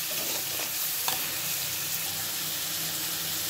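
A fish head fries in a pan with chili, turmeric, coriander and salt, giving a dense, steady sizzle with faint stirring scrapes up close and no talking.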